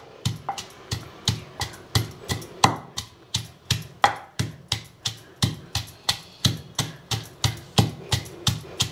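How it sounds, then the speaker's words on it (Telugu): Ginger, green chilli and garlic pounded in a small stone mortar, a steady run of sharp, close thuds repeating roughly three times a second without pause. "అప్పటికప్పుడు దంచుకుంటే బాగుంటుందని నేను ఎక్కువ ఇలా దంచుకుంటా చిన్న రోట్లో"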